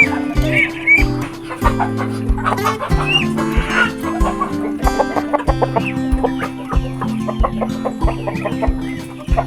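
Egg-laying hens on a livestock farm clucking busily and close by, overlapping calls from several birds in a continuous chatter, with a brief murmur of voices in the background.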